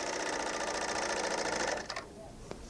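A BERNINA L890 serger stitching with regular thread in the chain looper runs as a loud, steady rapid whir for nearly two seconds, then stops, leaving quiet room noise with a couple of faint clicks.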